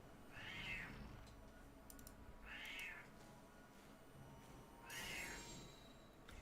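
A cat meows three times at an even pace, each call moderately close and clear over a low steady background hum, with no talk.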